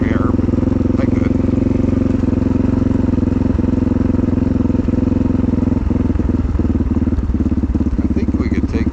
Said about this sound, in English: Bike seems to be running good, knock on wood.